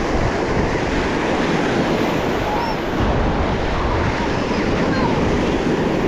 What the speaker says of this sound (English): with that wind noise